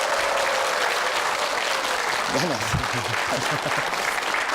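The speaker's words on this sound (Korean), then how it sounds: "여러분들 큰 박수로 환영해 주시면 고맙겠습니다." A studio audience applauds to welcome a guest onto a startup-story TV show, dense continuous clapping throughout, with a voice briefly speaking over it midway.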